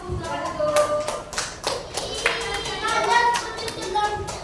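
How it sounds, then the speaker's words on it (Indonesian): Classroom students clap for a presenting group, a scattered burst of hand claps with a voice speaking over them and children's chatter in the room. "Tepuk tangan untuk kelompok 1."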